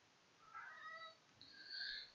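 A pet cat meows twice in quick succession, fairly close and moderately loud, with a short gap between the two calls and no talking over them.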